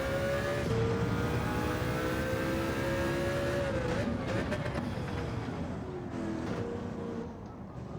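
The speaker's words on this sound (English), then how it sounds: "I absolutely love the sound of this engine." Mercedes CLK race car engine in Gran Turismo 7 droning steadily at high revs, tones sliding as it shifts and revs, loud and continuous throughout.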